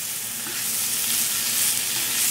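Ingredients for sweet and sour tofu sautéing in a pan, a steady loud hiss of sizzling oil that runs unbroken and close throughout.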